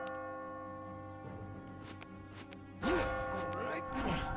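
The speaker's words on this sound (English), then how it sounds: "As you near the top, you will hear a bell ringing." A bell rings near the tower exit in the puzzle game Catherine, its sustained, clanging tones emerging over a busy game soundtrack with ticking and clock-like tones beneath.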